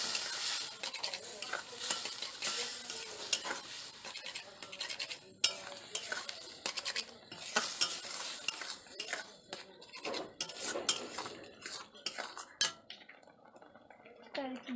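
Peanuts are stirred into tamarind water with a spoon in a metal pan, making repeated wet scraping and clinking strokes with a sizzling hiss underneath. The sound is close and irregular, and soft talk can be heard now and then.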